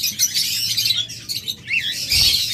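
A pair of yellow pet birds, lovebirds or budgerigars kept for sale, chirping and tweeting in quick bright bursts, with a busy chatter of several calls overlapping, close by and with no voices.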